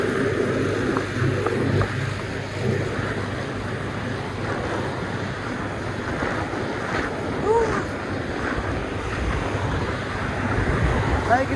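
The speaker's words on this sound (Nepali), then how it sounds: "हावा चलिरहेको छ मस्तै अनि म बोलेको पनि केही सुनिराखेको छैन" Strong wind buffeting a rider while cycling on a road in Nepal, a loud continuous rumbling roar across the microphone with gusty swells throughout, no clear voices heard.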